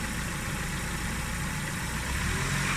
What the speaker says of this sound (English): That's a fast idle, and that's what you want to keep it at.